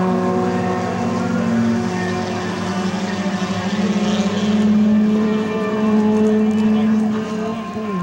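A P-40 Warhawk propeller aircraft engine drones steadily at an airshow, swelling slightly louder midway as it passes from left to right, with a continuous harmonic hum throughout.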